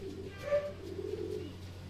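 Homing pigeons back from a mid-distance training toss in Matnog, Sorsogon give a soft, faint coo with a slight flutter over a low, steady background hum.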